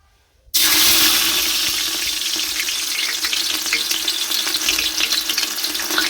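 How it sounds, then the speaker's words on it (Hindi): Onions hit hot, smoking oil in a pressure cooker with a sudden loud sizzle that continues as steady, crackling frying, close and prominent, with no talking. "अब मैं इसमें आहिस्ता करके प्याज डालूंगी।"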